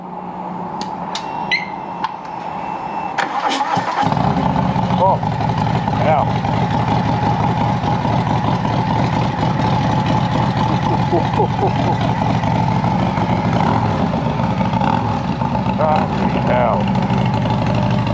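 A Harley-Davidson Fat Bob with a Stage 4 engine and Vance and Hines Pro Pipe exhaust starts up and settles into a loud, steady, rumbling idle close by, with brief exclamations from a person just before the engine fires.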